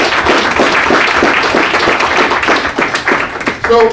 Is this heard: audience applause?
yes